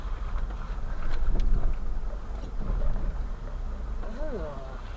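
A car engine on a public road, driven by a learner, revs hard with a deep, swelling low roar that peaks and eases, with a brief muffled voice near the end.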